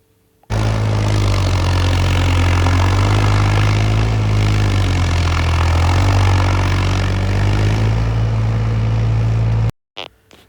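A tractor engine pulls a 16-foot rotavator, laboring in a loud, steady low drone that holds almost unbroken before cutting off abruptly near the end.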